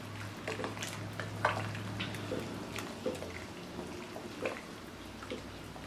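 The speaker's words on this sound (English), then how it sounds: "You just want to stir it up." Chicken and noodles with cream of mushroom soup being stirred in a pot, with soft scraping and wet clinks scattered through a low steady hum, no talking.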